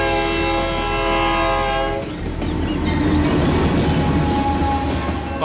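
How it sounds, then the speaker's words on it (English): A freight train on a North Dakota rail line during harvest sounds a long, loud multi-tone horn, then rumbles and clatters past close by with a heavy, continuous roar. "There's a train coming."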